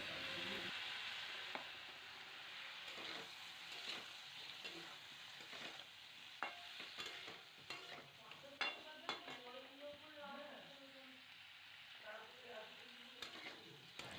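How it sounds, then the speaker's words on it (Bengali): Boiled taro corms and potatoes are sautéed in spice masala in a pan, with soft continuous frying sizzle and repeated scraping and stirring strokes, fairly quiet and close. "সেদ্ধ করে রাখা কচুর মুখি আর আলুটা দিয়ে মশলাটাকে ভালো করে কষাবো"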